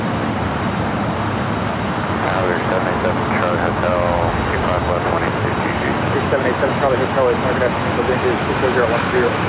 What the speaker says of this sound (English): Next takeoff here on the south side is Alaska Airlines Flight 286 heading to Newark at a